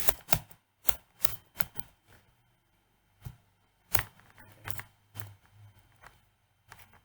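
Computer keyboard keys tapped while typing Java code for a linear search program, irregular bursts of close clicks separated by pauses, no talking.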